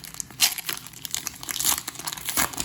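Crinkly plastic wrappers of trading card packs are torn and crumpled open up close, with irregular crackling bursts and rustles throughout and no speech.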